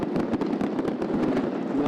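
Fireworks on New Year's night in Yakutsk crackle and pop without pause, a dense, steady barrage of distant bangs filling the outdoor air.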